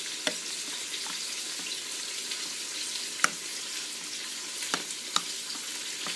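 Coconut chicken curry mixture sizzles gently in a pan while being stirred, a continuous frying hiss broken by a few sharp spoon taps against the pan.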